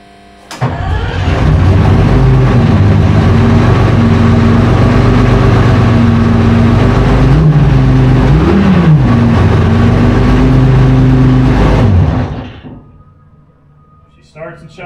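An army tank's diesel engine cranks, catches and runs at a loud, steady idle with a brief rise in pitch, then shuts off and winds down, with a voice faintly audible around it.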